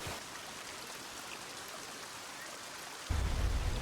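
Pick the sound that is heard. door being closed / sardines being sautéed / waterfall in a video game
waterfall in a video game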